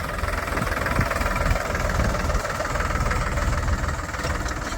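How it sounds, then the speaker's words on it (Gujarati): A tractor engine runs steadily on a farm near a groundnut field, a close, loud, continuous rumble with a knocking throb and no voices over it. "તો આ ટ્રેક્ટરની"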